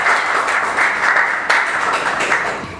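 An audience claps warmly to welcome a speaker, Dr. Diana Elizabeth Jiménez, at a scientific seminar in El Salvador, with a brief louder burst midway in the sustained applause.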